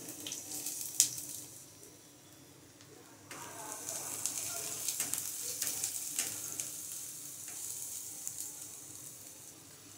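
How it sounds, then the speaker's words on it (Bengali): Chopped garlic and ginger drop into a little hot oil and fry with a soft, steady sizzle that rises after a few seconds, close up, with light stirring scrapes and a faint voice in the background. "যদি কম তেল থাকে এরকম, তার মধ্যেই আমি এবার দেব রসুন কুচি, তারপর দেব আদা কুচি"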